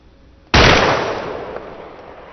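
A single sharp, loud gunshot from enemy AI in ARMA 2 cracks suddenly after a quiet moment, then a long echoing tail fades slowly with no talking.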